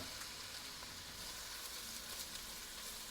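Onions sizzle steadily in a mix of olive oil and melted butter over medium-low heat, a soft continuous frying hiss with faint crackles and no talking.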